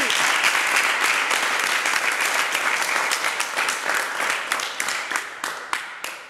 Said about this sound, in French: On peut applaudir pour Tebi.